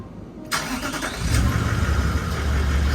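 A 2015 Toyota Landcruiser 76 series cranks and fires after an oil change, its engine catching within a second and settling into a loud, rumbling idle nearby.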